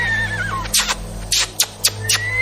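A horse neighs with a falling whinny at the start, followed by several sharp clicks and thuds over a low background rumble.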